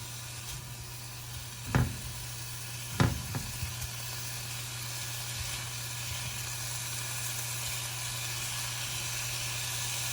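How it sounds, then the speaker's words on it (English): Bacon sizzles steadily in a pan as its fat renders out for spaghetti carbonara, a constant close frying hiss with a couple of brief utensil clinks and a low hum underneath. "I'm going to try to render out the fat, and then I'm going to take out the bacon once all the fat has been rendered"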